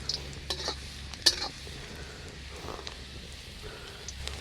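Chopped garlic sizzles steadily in hot oil in a pan during outdoor village cooking, a constant soft crackling hiss with a single sharp utensil clink near the start and faint stirring scrapes, no voices.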